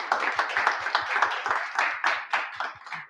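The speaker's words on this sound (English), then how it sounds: "so let's give them a round of applause" Small audience at a tech bootcamp event claps for sponsors, a short patter of individual hand claps, close and distinct, tapering off after about three seconds.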